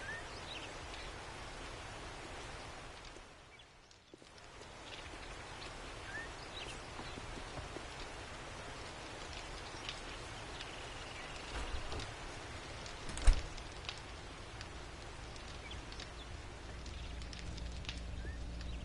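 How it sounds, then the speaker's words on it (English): Rain falls steadily across the Pine Forest in the PS5 version of 7 Days to Die, a continuous even hiss with a brief dip early on and one short thump midway. "And it does kind of rain out here a little bit."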